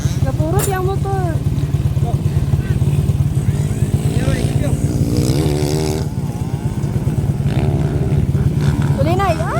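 An enduro motorcycle engine at a local enduro race drones loud and close with a steady rapid pulsing, while people shout and talk over it throughout.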